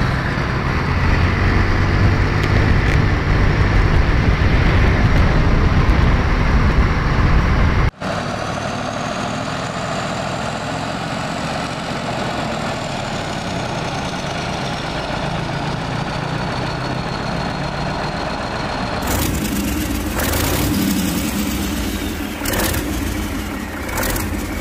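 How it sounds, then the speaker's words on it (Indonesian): Heavy V8 twin-turbo bus engine roaring loudly and steadily up close, a deep continuous rumble that cuts briefly, then resumes with a rising whine and later rattling bursts. "memiliki suara raungan mesin"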